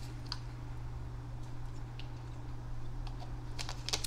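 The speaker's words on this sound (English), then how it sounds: "So I'm actually just going to just type it in" Someone types on a computer keyboard, light scattered key clicks that bunch into a quicker burst near the end, quiet and close over a steady electrical hum.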